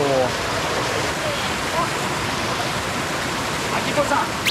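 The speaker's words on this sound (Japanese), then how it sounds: "最初はこのちっちゃい滝を登りましょう。" A small waterfall and mountain stream on the Maze River in Gifu, Japan, rush in a steady, dense, broadband roar that fills the scene continuously, with faint voices briefly audible beneath it.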